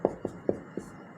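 Chalk or marker strokes on a classroom board during a Class 10 maths lesson on quadratic polynomials: four short, separate taps and scrapes, fairly close and quiet, with no talk over them.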